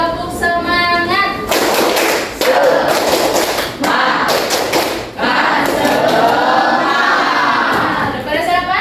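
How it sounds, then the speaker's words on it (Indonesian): Indonesian schoolchildren in a classroom perform a spirit clap, loud overlapping thuds and claps in bursts with crowd noise and shouting, following a short spoken prompt. "Coba tepuk semangat."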